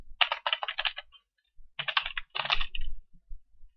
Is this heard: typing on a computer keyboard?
yes